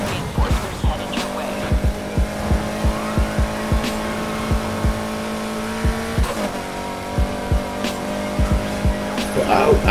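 A BMW races in Need for Speed: Heat, its engine droning steadily while tires squeal and skid in repeated short bursts, loud and close throughout.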